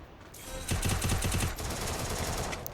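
Rapid automatic gunfire from a battle royale video game during a ranked match, a tight burst of loud repeated shots followed by continuing dense battle noise, with no talking.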